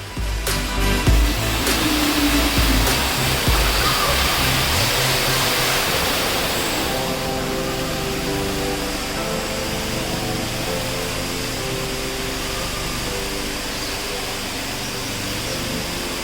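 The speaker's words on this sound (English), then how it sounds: "it's apparently Canada's tallest indoor waterfall." A steady, loud rushing roar of a tall indoor waterfall in a biodome fills the space, unbroken throughout, with a brief clatter near the start.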